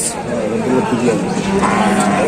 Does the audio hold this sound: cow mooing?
yes